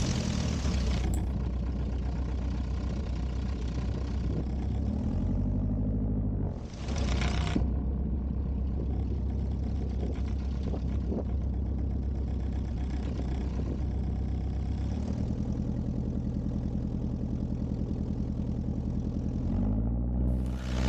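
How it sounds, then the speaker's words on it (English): A light aircraft's 65 horsepower Continental piston engine rumbles steadily and loudly close by before takeoff for a long stretch, its pitch shifting slightly a few times, with no voices. "giving full power now on this mighty 65 horsepower Continental engine"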